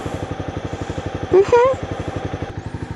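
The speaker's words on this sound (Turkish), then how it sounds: "ben motoru çalıştırdım gidiyorum" A motorcycle engine idles nearby with a steady, rapid thumping pulse, briefly joined by a short higher-pitched whine partway through.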